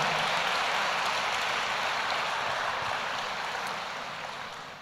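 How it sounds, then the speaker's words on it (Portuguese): A church congregation applauds its pastors, a steady dense wash of clapping that fills the space and slowly fades toward the end, with no voices over it. "Eu queria que a igreja aplaudisse os pastores aí."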